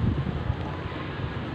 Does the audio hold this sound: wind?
yes